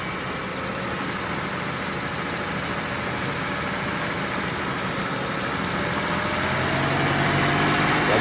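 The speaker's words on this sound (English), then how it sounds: "Rev it up a little bit. Let it suck back down." Close and steady, the engine of a 2003 Silhouette van, with its coolant system being bled, hums and roars at idle, rising slightly toward the end as it is revved a little.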